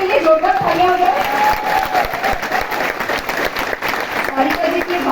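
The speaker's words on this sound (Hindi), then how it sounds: "एक बार सारिका मैम के लिए जोरदार तालियां हो जाए।" An auditorium crowd at a Modicare event in New Delhi breaks into loud applause, steady clapping with scattered cheers and voices over it.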